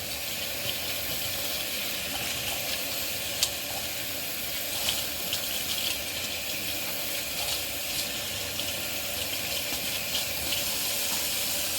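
Running tap water pours steadily as soapy items are rinsed off in a sink, a continuous close hiss of flowing water with a few faint clinks and splashes throughout, no voices.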